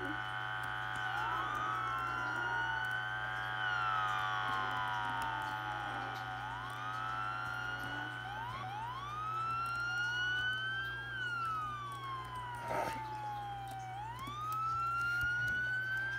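Police car siren in a video game as a cop pulls the player over, a loud continuous wail sweeping up and down repeatedly over a steady engine drone.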